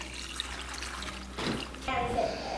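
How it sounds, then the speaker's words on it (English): Tap water running into a pot in a home kitchen, a steady splashing flow that grows louder and deeper as the stream strengthens, with faint background noise. "I'm gonna continue to fill this up with more water."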